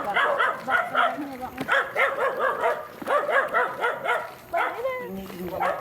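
Several dogs bark and yip repeatedly in quick bursts during an outing, close and loud, with a few whimpers, while people talk in the background.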